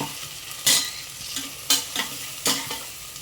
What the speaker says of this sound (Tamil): கொஞ்சம் நேரம் வதங்கட்டும் வெங்காயம்